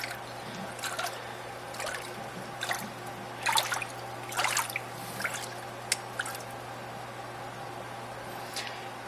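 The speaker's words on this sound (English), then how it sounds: "There's the Jebao gyre. It is quiet, I'll give it that, and I can make it be a little bit more turbulent." A Jebao Gyre CP-40 aquarium pump stirs water in a tank, giving soft irregular splashes and trickles over a faint steady hum, quiet and close.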